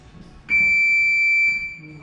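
A loud electronic timer buzzer sounds during a boxing-combination workout, one steady high-pitched tone held for about a second before cutting off, with faint room sound around it.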